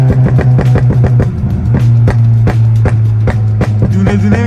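A car engine idles and revs loudly up close while a rapid series of sharp exhaust backfire pops and crackles fires in bursts, turning quicker and finer with more throttle.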